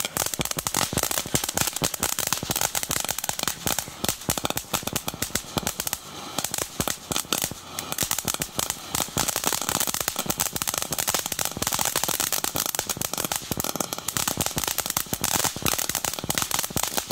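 A Diamond Fireworks Diamond Prosperity Fountain erupts in a dense, continuous crackle and hiss of sparks, loud and steady for the whole stretch with rapid popping bursts throughout and no voices.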